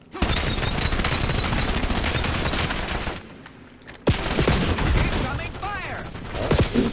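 Heavy gunfire and explosions from the shooter game Black Ops 7, loud and continuous with bursts of automatic fire, a brief lull, then a sharp blast and more shooting, with a voice talking over it.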